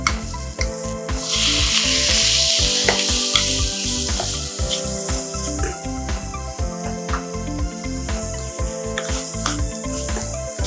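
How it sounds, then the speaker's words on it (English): Onions and tomatoes saute in a kitchen pan for a chutney, with a loud, steady sizzle and repeated rhythmic scraping stir strokes throughout, close up and without talk. "You just saute it until it's just slightly pinkish in color."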